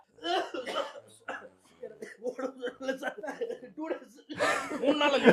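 Several people coughing and chuckling in an office in a comedy sketch about fever, with bursts of coughs scattered among voices and a louder cluster near the end.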